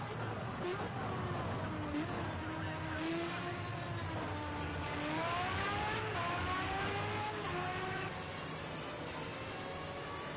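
A Formula A open-wheel race car engine in Project Cars 2 at the Red Bull Ring whines and rises in pitch through the gears, steady and close, with someone talking over it.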